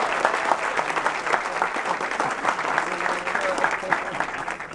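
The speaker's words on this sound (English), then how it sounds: "let's give a round of applause for Miss Angel Brown" An audience applauds for Angel Brown at a film event, steady dense clapping from a crowd that holds evenly for several seconds, close and full, with voices mixed in underneath.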